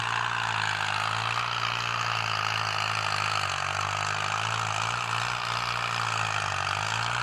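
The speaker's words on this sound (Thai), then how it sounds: "เสียงรถนี่แบบ กระหึ่มเลยครับ" An M85 tractor pulling a four-disc plough roars steadily up close, a heavy, loud engine drone with a low throbbing rumble and no break.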